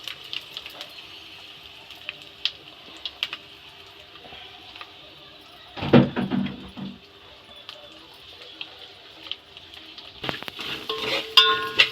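Raw masala tossed into hot oil for a Telugu-style black pepper rasam, with a steady background sizzle and a louder burst of crackling and stirring midway before it settles again.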